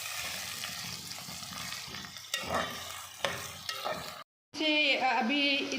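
Something frying in hot oil until light brown for chicken shorba, a close steady sizzle with spoon scraping and stirring strokes, briefly cut off before a louder bubbling return.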